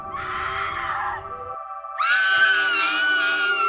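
A woman screams in terror in a horror story, two long shrill cries separated by a brief gap, loud and close with no talk over them.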